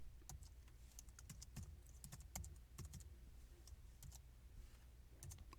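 Quiet, steady typing on a computer keyboard while HTML page layout is coded, with rapid irregular key clicks running throughout at close range and no speech.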